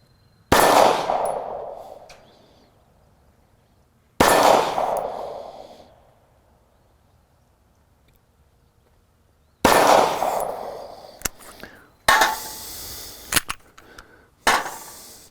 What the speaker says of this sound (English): We're going to shoot a series of 3 shots.